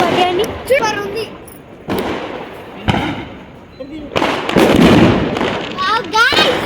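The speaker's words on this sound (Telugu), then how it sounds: "వెనకాల టపాకాయలు ఎట్లా పెళ్తున్నాయో మా అమ్మ బర్త్డే అని" Firecrackers burst in the background at a mother's birthday celebration on a cold night, giving several sharp booms and crackles, with people talking nearby over them.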